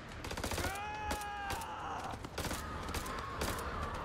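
Sustained gunfire in the horror game House of Ashes, with rapid bursts of automatic shots rattling continuously over dense background effects, loud and close throughout.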